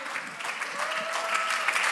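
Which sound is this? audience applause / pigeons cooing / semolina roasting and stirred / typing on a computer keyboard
audience applause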